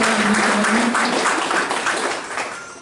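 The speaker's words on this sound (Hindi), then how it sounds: "मैं चाहूँगा जोरदार तालियों से उनका स्वागत करें।" Audience applause welcoming a speaker at a Lions District 323G-2 Global Action Team meeting in Nagda; a dense, steady wash of clapping that starts loud and gradually fades over a few seconds, with a brief tonal hum early on.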